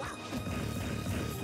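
An up smash attack lands in a Super Smash Bros. tournament match between Pikachu and Luigi: a single dense, crashing impact over loud, continuous game noise.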